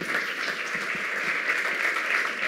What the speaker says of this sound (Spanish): recibimos con un fuerte aplauso a Andrea Tortonese y Francisco Villa